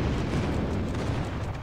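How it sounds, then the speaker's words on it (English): Airstrike explosions in Call of Duty Mobile roll into one loud, continuous booming rumble that fills the whole moment without a break. "Enemy airstrike incoming"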